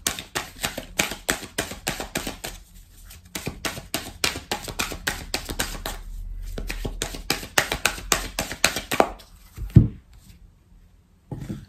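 Oracle cards shuffled by hand for a reading, a rapid run of crisp riffling taps with short pauses between bursts, close and clear, ending with a soft knock.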